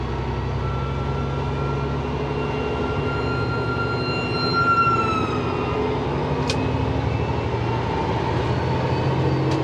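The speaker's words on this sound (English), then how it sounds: "Oh, fire truck coming." A fire truck siren wails on the road, its rising and falling tone heard steadily from inside a truck cab over constant engine and road rumble, with a brief horn blast partway through.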